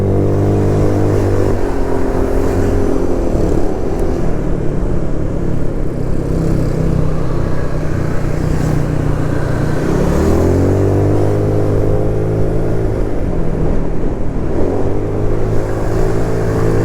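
A vehicle engine droning steadily on a road trip from Pangandaran to Tangerang, loud and close, with pitch rising and falling through several rounds of acceleration, and no talking.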